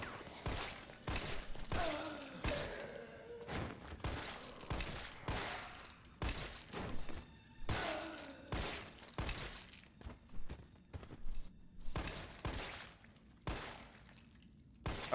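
Rifle gunfire in Resident Evil 3 Remake, loud sharp shots fired in quick irregular bursts and single cracks with short gaps between, close up and dominating the scene.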